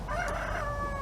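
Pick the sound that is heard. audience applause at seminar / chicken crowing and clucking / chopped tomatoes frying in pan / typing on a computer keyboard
chicken crowing and clucking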